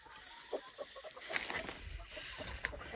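Backyard chickens cluck in short, scattered calls during an ice storm, some notes close and sharp, others softer, over a steady low background rumble.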